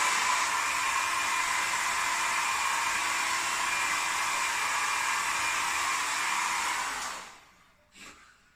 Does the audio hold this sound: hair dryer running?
yes